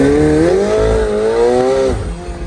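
A 2022 McLaren 720S Performance accelerates hard, its engine note climbing loudly through the revs with a brief dip and rise, then cutting off abruptly near the end as power is pulled back.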